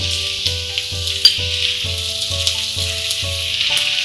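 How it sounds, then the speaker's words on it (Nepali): 400 grams of chicken frying with onions in a pan, a steady loud sizzle running throughout, with a faint rhythmic stirring or scraping pulse beneath it and no voices. "र प्याज यतिको फ्राई भएपछि मैले यसमा राखेँ 400 ग्राम चिकन"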